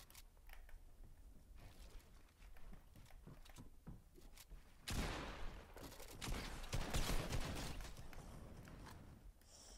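Drum gun in Fortnite firing rapid bursts of gunfire, building from scattered shots to a loud, dense sustained volley in the second half, with mechanical clatter between.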